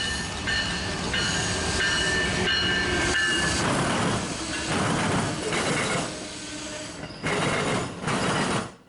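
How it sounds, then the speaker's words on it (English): Southbound Amtrak Lincoln service led by a Midwestern Charger locomotive passing close by, a loud continuous roar of wheels and rumbling cars with clanking and hissing surges throughout. "The next train was a southbound Amtrak Lincoln service, with one of the Midwestern Chargers leading it."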